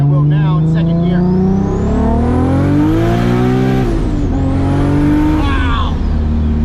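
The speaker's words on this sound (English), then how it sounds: "So if I want to get on it like I will now in 2nd gear." A 2JZ-engined car with a Tilton ST246 twin-disc clutch accelerates hard in second gear, its engine note climbing loudly through a long rev, then a brief gear shift and a renewed pull.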